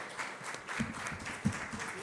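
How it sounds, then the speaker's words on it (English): Faint, distant audience applause at the closing session of the India AI Impact Summit 2026, a thin patter of clapping with a few sharper claps across the two seconds. "big round of applause for the organizing team"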